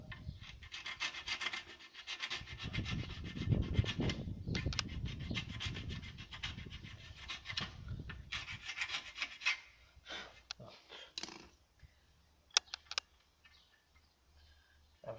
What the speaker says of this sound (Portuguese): Para soldar eu vou ter que raspar aqui a tinta, senão depois não agarra.